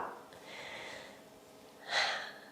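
Slow breathing during a qi gong exercise: a soft, drawn-out inhale followed by a stronger, breathy exhale, close and quiet with no talk.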